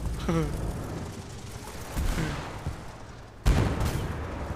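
Explosions boom out in War Thunder during a tank battle, a couple of muffled blasts followed by a sharp, loud one near the end, over a noisy rumbling background.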